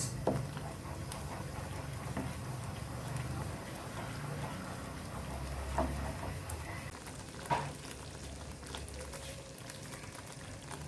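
Spinach and masala simmer with a soft, steady sizzle in a pan for palak paneer, broken by a few scraping stirs and utensil knocks, fairly quiet and without talk.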